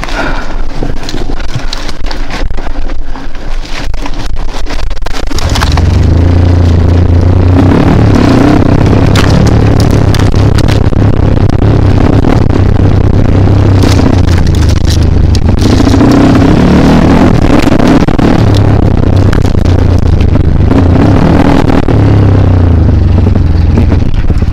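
A Kawasaki KLX motorcycle with an MP mono engine racing up an enduro hill course at Bukit Cumbri, a loud steady engine drone with rising and falling revs running throughout, preceded by a few seconds of rougher noise.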